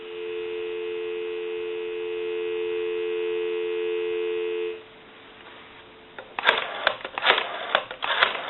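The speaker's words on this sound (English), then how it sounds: "Give you some dial tone." A steady dial tone from a Western Electric 302 rotary telephone hums for several seconds, stops, and after a quiet pause a burst of clicks and tones follows.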